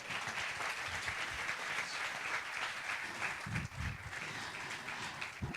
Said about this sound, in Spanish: Bueno, pero ni aplaude ni nada. Un aplauso.